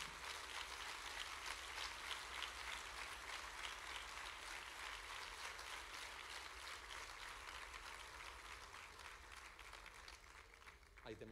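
Sustained applause from an audience at the inauguration of the Grove auditorium, welcoming the president of the Diputación; dense, steady clapping fills the hall throughout with a mix of voices underneath.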